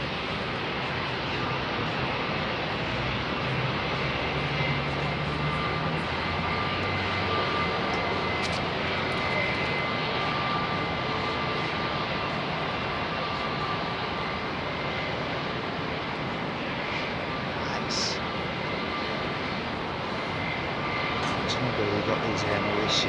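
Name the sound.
Air Mauritius airliner taxiing at London Heathrow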